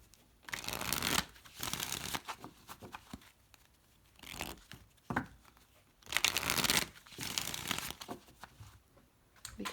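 Oracle cards being shuffled by hand in repeated rustling bursts with short pauses between them, close and fairly loud during a card reading.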